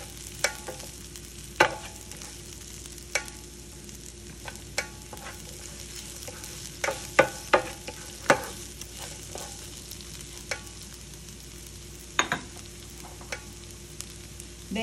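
Onions and chilies sautéing in a pan for apricot chutney, a steady soft sizzle under sharp scraping and clicking stir strokes at irregular intervals, close up and without speech.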